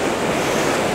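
Sea waves wash onto the shore during daytime sea bass fishing along the Toyama coast. A loud, continuous roar of surf and wind fills the whole moment with no voices.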